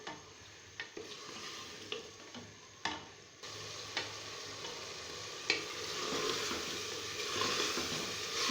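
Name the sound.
mutton with ginger-garlic paste and green chillies frying, stirred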